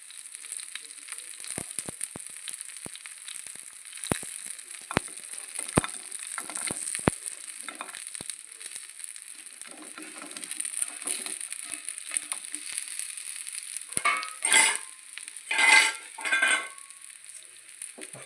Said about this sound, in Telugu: ఇప్పుడు ఇందులో పన్నీర్ పీసెస్ వేసేద్దాం.